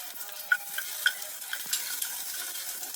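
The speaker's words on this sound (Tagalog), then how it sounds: "igigisa ko naman ito sa sibuyas at bawang" Pork ribs sautéing in a pan with onion and garlic, giving a steady low sizzle with occasional stirring clinks and scrapes, close and moderately quiet, no talk.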